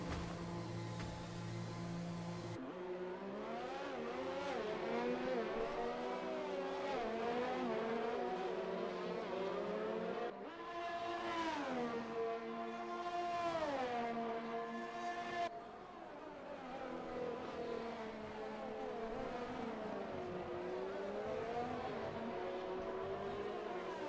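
F1 race cars in video game qualifying at the Russian Grand Prix, engines continuously whining and rising through gear shifts, loud and sustained.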